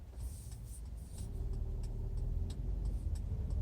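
A 2020 Mercedes-Benz GLE350 4matic accelerating on a road, its steady low engine and road rumble building slightly in loudness, heard from inside the cabin with no talking.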